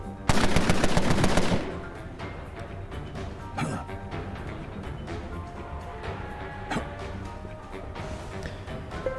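A loud, rapid burst of machine gun fire in the video game Empire of Sin, followed by scattered quieter gunshots and clatter under a steady game soundtrack.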